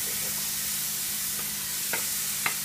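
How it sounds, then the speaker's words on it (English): Onions added to a pan of hot chorizo fat give a steady, quiet hiss, with a few faint clicks of stirring near the end. "So at this point, we're going to add the onions."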